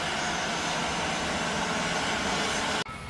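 An airplane taking off from an airport runway nearby, a loud steady broadband jet roar that holds for several seconds before a sudden cut; no talk.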